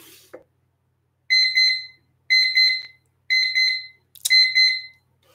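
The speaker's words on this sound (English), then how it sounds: "You hear a beep." An alarm timer sounds four distinct bursts of rapid, high-pitched electronic beeping, each roughly a second long and separated by short silences, loud and close in an otherwise quiet room.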